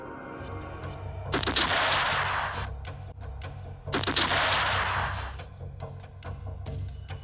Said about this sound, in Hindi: बंदूक तुम्हारा हाथ में है मारो